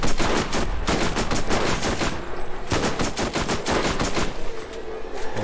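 Rapid, sustained automatic gunfire from an auto-turret in the Borderlands video game rattles on loudly and continuously, with dense overlapping shots and no pauses.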